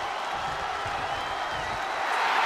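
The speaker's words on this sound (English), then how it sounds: "The sound of this crowd is deafening" Steady, roaring arena crowd noise from the WWE 2K23 wrestling video game during a Raw versus Smackdown champion match, a continuous wash of cheering that swells slightly toward the end.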